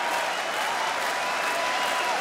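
Crowd applauding fighters at an MMA event in Oberhausen, a dense, continuous wash of clapping and cheering filling the arena, loud and steady with no break.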